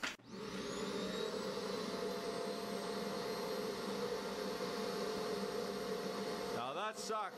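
A Dyson Animal vacuum cleaner with its side holes taped over runs at peak suction, a loud, sustained high-pitched whine and roar that holds steady for several seconds before fluctuating briefly near the end.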